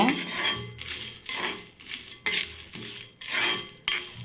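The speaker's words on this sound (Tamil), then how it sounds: "நெய்யில் வறுத்தா உருண்டை வாசனையாக இருக்கும் அதனால தான் நம்ம நெய்யில் வறுக்கிறோம்" Peanuts roast in ghee in a pan while a spoon stirs them, giving rhythmic scraping strokes roughly every three-quarters of a second, close and clear, with no talking.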